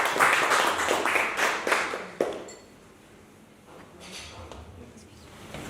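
An audience at a Printemps des poètes poetry evening claps warmly for about two seconds, then the applause breaks off into near-silence broken only by faint room noise and a few soft taps.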